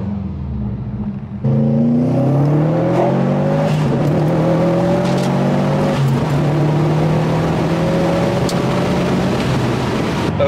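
A 2019 Subaru STI's Remark axle-back exhaust revs loudly and close by, with a deep rumble that jumps in volume after a quieter idle and climbs through several rising pulls.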